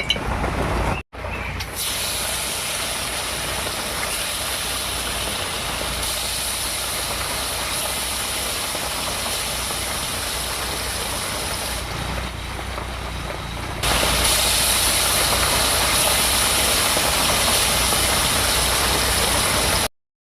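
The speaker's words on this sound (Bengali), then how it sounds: "আজকে প্রচণ্ড বৃষ্টি হচ্ছে" Heavy rain pours steadily outdoors near a kitchen, a dense, loud, unbroken hiss that holds for the whole stretch, briefly cutting out near the start and growing slightly louder toward the end, with no speech.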